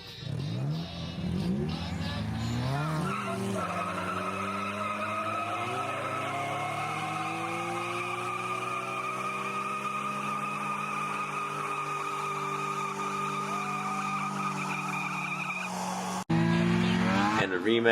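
Toyota Yaris cars race and skid at a Gambler 500 event in New York, with engines rising and falling in pitch and long tire squeals sweeping under them, then a sudden louder burst near the end.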